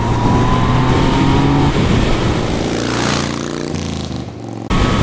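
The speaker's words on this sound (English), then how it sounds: "Highway speed. Smooth. Engine is smooth at this RPM." A Yamaha MT-09 motorcycle engine runs at steady highway speed, a loud continuous drone with wind roar, its tone dipping slightly near the end before a brief surge.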